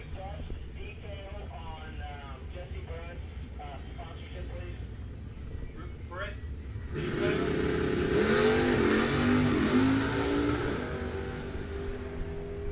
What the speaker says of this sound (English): So both cars off and running, trying to hit the 7 flat mark.